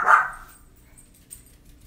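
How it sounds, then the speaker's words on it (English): A single sharp dog bark, close and loud, followed by quiet room sound and a faint soft noise. "She's barking and staring at me."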